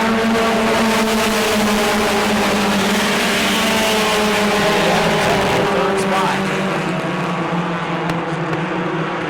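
Bomber class race cars roaring around the New Smyrna oval track in a loud, steady engine drone with pitch shifting as they race, while an announcer talks over it.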